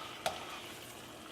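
Ground beef browning in a pan for tostadas, a faint, steady frying sizzle with one brief scrape or clink of a utensil near the start, no talking.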